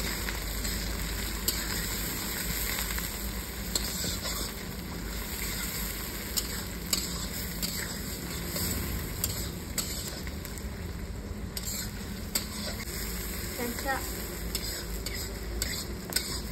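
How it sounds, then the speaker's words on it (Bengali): Onions fry in a pan for Kerala-style mutton head, a constant close sizzle broken by repeated scraping stirs and light clinks of a utensil against the pan, with no speech. "পেঁয়াজ দিয়ে দিলাম এবারে। পেঁয়াজটা ভাজা হয়ে যায়"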